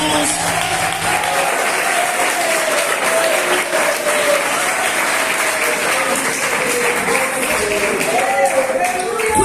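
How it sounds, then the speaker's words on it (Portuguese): A church congregation applauds loudly and steadily for the full stretch, a dense wash of clapping with voices mixed in. "Um aplauso forte para Jesus."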